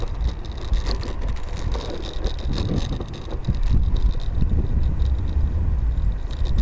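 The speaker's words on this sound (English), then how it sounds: "With this headwind, the wind in my ears is actually as significant as the wind in my ears was on the other scoot" Heavy headwind buffeting the ears while riding an electric scooter along a path: a constant loud, rumbling wind roar with gusty swells, close to the microphone and unbroken by speech.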